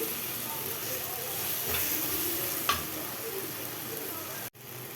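Tomatoes frying in a pan for tomato biryani, a steady sizzling hiss with a few stirring scrapes, fairly close, no speech.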